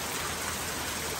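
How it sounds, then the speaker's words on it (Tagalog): Heavy rain pours down steadily, a dense, continuous hiss with no breaks and no voices. "paglingon ko sa salamin, lakas pala ng ulan"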